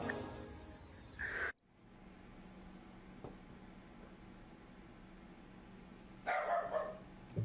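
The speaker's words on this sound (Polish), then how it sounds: "Fajny piesek." A dog barks in two short, loud bursts, one early and one near the end, separated by a quiet stretch of low background hiss.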